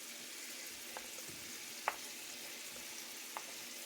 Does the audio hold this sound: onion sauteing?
yes